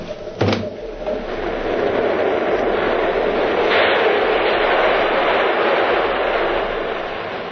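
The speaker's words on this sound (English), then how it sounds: "The train." A sharp clack opens into a sustained rumbling roar that builds and holds, like a train passing a few feet below an open window, then eases slightly at the end.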